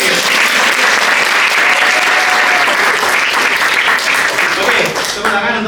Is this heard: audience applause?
yes